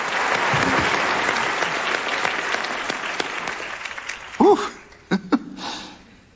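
An audience at a morning graduation ceremony applauds after a choir performance, loud steady clapping that thins out and fades, leaving a few brief, louder, isolated sounds near the end.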